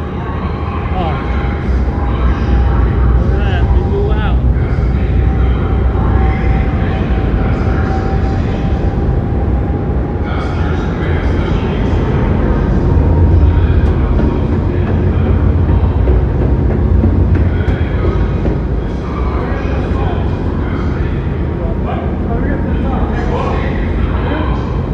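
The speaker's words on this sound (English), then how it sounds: "We're in the ferry." Aboard a passenger ferry bound for Seattle, Washington, a loud, continuous mechanical rumble and rattle fills the space while people talk throughout.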